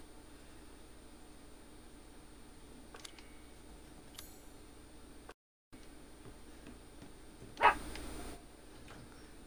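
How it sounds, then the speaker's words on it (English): A house dog lets out a single sudden bark at moderate distance over quiet room tone, with a few faint clicks and taps earlier. "My dog just scared me just now. It barked right when I was looking."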